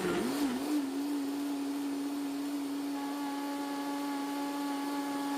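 A blender motor whirs steadily at high speed pureeing corn with water, spinning up at the start and holding a constant, droning whine throughout.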